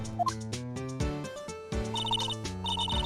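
A telephone ringtone chimes in a repeating electronic melody from Phoenix Wright: Ace Attorney, loud and clear throughout with bright tonal bursts and no talking.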